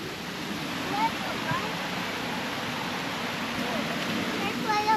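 Bang Pae Waterfall gives off a continuous broadband roar, steady and fairly close, with faint bird chirps and brief outdoor noises over it.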